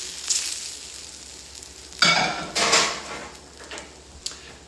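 Salmon fries in brown butter in a pan, a soft background sizzle broken by two louder bursts of crackling spatter and a few smaller pops, with no talking.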